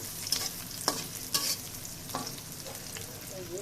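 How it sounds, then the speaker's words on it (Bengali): Onions sizzling in oil left over from frying a hilsa fish head, with a spatula stirring and scraping the pan in a few distinct strokes over a steady crackle. "এখন আমি পেঁয়াজগুলো ওই মাছ ভাজার তেলে মাছের মাথা ভাজার তেলে কিন্তু ভেজে নিচ্ছি"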